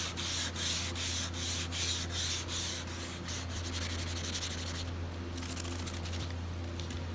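Hand sanding of clear coat on a car panel with 2000-grit paper on a flexible foam board, a soft, steady back-and-forth rubbing in even strokes, close and quiet, with no talk.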